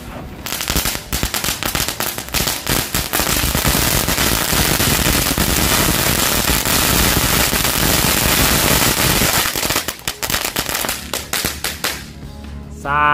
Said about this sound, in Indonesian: Lanjut kita nyalakan 3 pak sekaligus mercon telur dino.